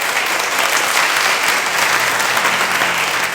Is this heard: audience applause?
yes